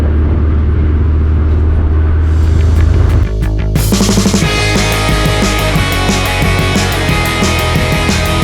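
A car drives across a bridge near a racing circuit, its loud steady road and engine rumble continuous throughout, with a sharp change in tone partway as the surface shifts, and a dense wash of vehicle noise after.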